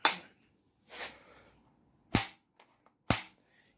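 A new clutch lever on a Suzuki RM125 motorcycle snaps back against its perch four times. Each snap is a sharp, close click in an otherwise quiet setting.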